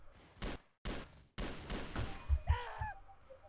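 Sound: gunshots in the video game Stick Veterans

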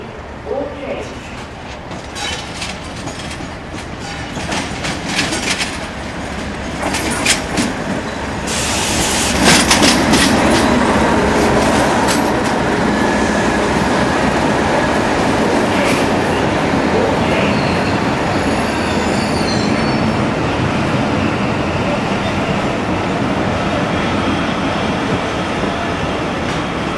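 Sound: train passing on rails

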